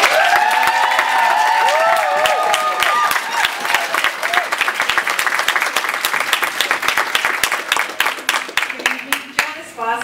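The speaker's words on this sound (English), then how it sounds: "Let's have a round of applause." A round of applause fills a school board meeting room, with dense, sustained clapping from the audience that thins out toward the end while some voices carry over it.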